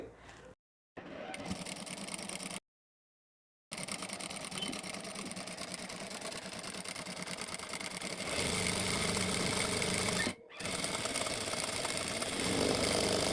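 A power sewing machine fitted with a spiral hemming clamp stitches a folded fabric edge, a fast steady mechanical whirr that runs almost throughout, broken by two short pauses near the start and a brief stop near the end.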